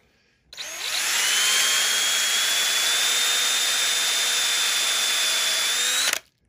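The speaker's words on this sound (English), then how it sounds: "I'm going to drill a small, short 5 8 inch hole right in the middle of this" A power drill spins up and runs at a steady high whine for about five seconds before stopping abruptly, close and loud, drilling a short 5/8-inch hole into wood.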